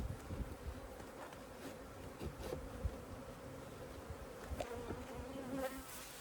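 A top bar hive under inspection gives off a constant close drone of many bees, with occasional louder buzzes as single insects fly past, and no one speaks.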